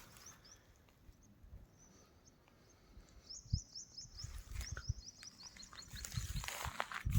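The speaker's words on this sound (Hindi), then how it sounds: "चिड़ियों की आवाज़ आपको सुनाई दे रही होगी।" Faint, high bird chirps come in quick little bursts from a distance, over a soft outdoor background beside a village near Khopoli, India, that grows gradually louder.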